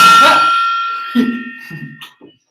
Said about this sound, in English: I just wanted to hit the gong.